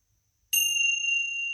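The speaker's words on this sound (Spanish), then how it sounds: "de manera tan clara la campana, ¿no? Cuando suena así?" A single bell is struck once and rings out clearly with a bright, sustained metallic tone that holds steady after a quiet start, with no talk.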